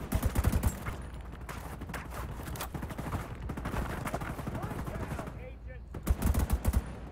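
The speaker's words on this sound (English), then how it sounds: "Okay, I'm getting shot at pretty bad." Sustained gunfire in the video game The Division 2, with rapid automatic bursts and scattered single shots rattling through the whole stretch, loudest in sharp clusters at the start and end.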